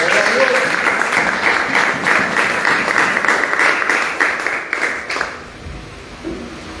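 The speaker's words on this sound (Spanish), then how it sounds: "¿Cuánto le da un aplauso al Señor?" A church congregation applauds for the Lord during a service, a sustained burst of clapping that fades out toward the end, with some voices mixed in.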